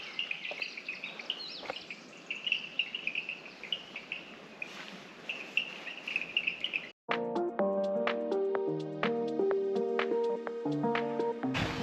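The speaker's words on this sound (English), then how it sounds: "Just listen to the birds." Birds singing in the garden of Longwood House on Saint Helena: thin high chirps over a faint insect-like buzz, then clearer, louder repeated notes and calls toward the end, with no talking.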